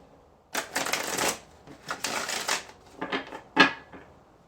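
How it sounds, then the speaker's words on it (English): Several bursts of tarot cards being riffled and shuffled, close up, with short pauses between them and a sharp snap at the end. "Okay, one more shuffle."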